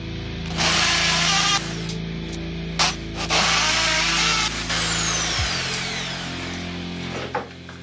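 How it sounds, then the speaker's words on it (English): Power tools drill and grind against a hard studio wall in loud bursts with brief pauses, ending as the motor winds down and stops. "And now, power tools."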